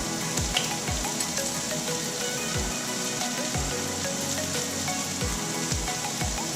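Onion and garlic frying with paprika in a pan, a steady soft sizzle with periodic low scraping stirs, close and alone without speech.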